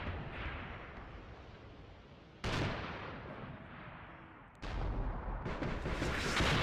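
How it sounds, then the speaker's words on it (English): Artillery firing in the war game Graviteam: Fateful Strike, two heavy booming blasts a couple of seconds apart, each followed by a long rumbling tail over a constant background roar. "We've got our own artillery going right there as well."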